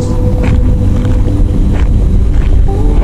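A motorbike engine labours up a very steep road in Ilocos Sur, Philippines, its loud steady drone running throughout with wind buffeting the microphone.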